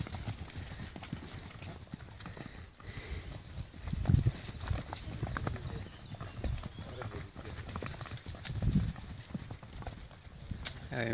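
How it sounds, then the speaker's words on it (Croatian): Hooves of a group of wild horses clip-clop across a dry mountain, irregular soft thuds that swell into louder clusters as the animals pass fairly close, over faint outdoor background with no talking. "Naišli smo još na jednu grupu divljih konja."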